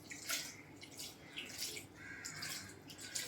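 Water is poured from a glass into a pot of soaked dal, rice and taro leaves for a Maharashtrian alu fadfade, making a faint, brief gurgling splash in a few bursts.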